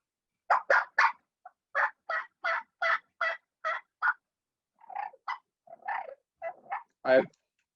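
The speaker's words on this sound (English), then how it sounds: "Can you pick up on some of the clucks and purrs?" A turkey call used in spring turkey hunting, giving quick, evenly spaced clucks, then softer rolling purrs and a final drawn-out note, close and clear with silent gaps between.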